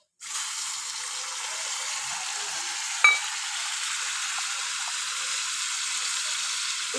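Ground ginger, garlic, onion and tomato paste hit hot oil for chicken kosha and burst into a sudden loud sizzle that holds as an even, dense frying hiss, with one brief clink partway through and no talking.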